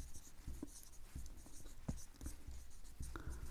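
A pen writes a square root calculation on paper, scratching out quick, faint strokes and taps up close in an irregular rhythm with no voice.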